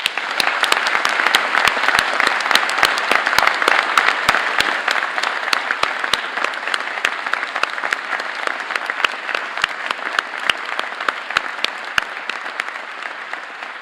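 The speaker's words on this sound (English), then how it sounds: "let's have a special round of applause for your family, your supporters, and for everyone who made this week's ceremonies happen" Sustained applause from a large audience at a university graduation ceremony in St Andrews, dense steady clapping filling the hall at an even level throughout, with no voices over it.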